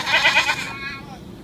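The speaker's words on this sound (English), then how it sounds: "I wonder what would happen when the goat actually goes back to the farm." A goat in a scene from the 2020 film Artemis Fowl gives one close, wavering bleat that fades out toward the end.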